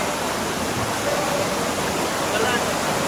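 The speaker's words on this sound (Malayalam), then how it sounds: "വേവ് പോലെ വെള്ളം വരാം" Rushing stream water pours through a rock cave during a trek in Uttarakhand, a dense, steady roar that stays loud and unbroken throughout.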